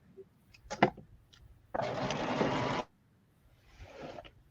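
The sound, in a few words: sewing machine running at full speed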